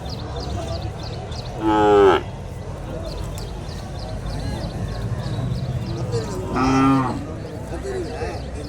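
Cattle at a cattle market moo twice, each a loud drawn-out low call about a second long, several seconds apart, over constant crowd murmur and chatter.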